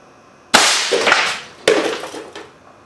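An air cannon fires a hard chunk of aluminum with a slightly rounded nose, giving two sharp loud bangs about a second apart, each followed by a short rattling decay.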